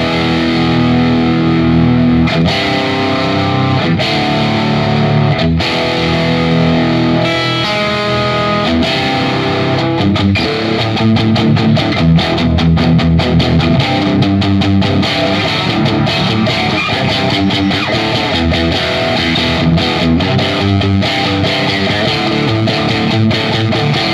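A Warmoth Stratocaster electric guitar on its treble pickup is played through an overdriven amp, giving a snarly, distorted tone as loud, sustained chords and riffs carry on steadily with no talking.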